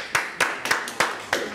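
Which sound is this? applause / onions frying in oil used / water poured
applause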